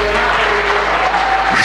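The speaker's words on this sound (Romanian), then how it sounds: "Dați să-i aplaudăm!" An audience in a sports hall applauds young players from a Cahul youth football club at a sports gala, with steady dense clapping that fills the room throughout.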